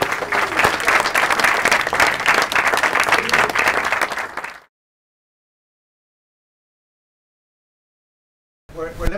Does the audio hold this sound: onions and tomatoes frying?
no